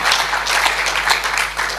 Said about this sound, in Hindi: ताली बजा, डरो मत आप।